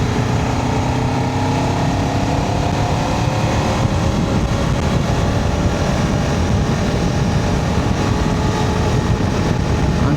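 A Kawasaki KLE500 motorcycle pulls in sixth gear from about 40 mph, its engine giving a steady, buzzing drone with wind rush, continuous and close for about ten seconds.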